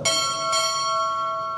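Two clear strikes of a ship's bell ring out at a U.S. Navy chief pinning ceremony, spaced about half a second apart, their metallic tone sustaining and decaying steadily in a quiet hall.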